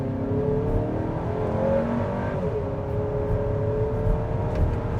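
A 2024 GMC Acadia Denali SUV accelerates hard, its engine note climbing steadily in pitch under a constant road and wind roar, heard from inside the cabin without talk.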